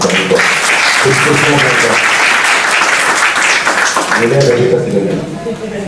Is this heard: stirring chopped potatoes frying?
no